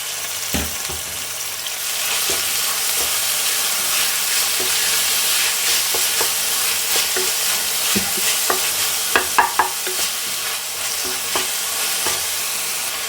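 Finely chopped capsicum sizzles and fries in a pan while a spatula stirs it, giving a steady loud hiss broken by frequent scraping clicks and taps, with no one speaking.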